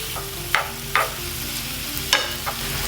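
Meat browning in a frying pan for a steakhouse crunch melt, a continuous close sizzle broken by several sharp scraping stirs, with no voices.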